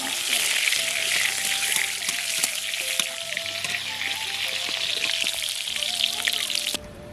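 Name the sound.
pointed gourd being stirred and fried in a wok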